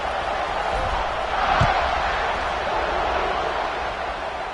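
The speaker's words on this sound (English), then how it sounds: "this crowd is buzzing after that last score" Stadium crowd at a football game, a steady broadband roar from many fans filling the whole clip, with a brief louder swell near the middle and no clear speech on top.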